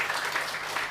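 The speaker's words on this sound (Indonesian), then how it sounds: "tepuk tangan bagi Allah kita" A church congregation claps together in continuous, dense applause that fills the whole short moment, moderately loud and with no voices on top.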